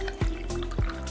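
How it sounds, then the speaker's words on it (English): Milk poured over ice for dalgona coffee makes two soft splashing drips against a quiet background. "So just pour your milk on top of the ice."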